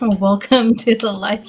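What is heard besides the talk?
No everyday noises stand out.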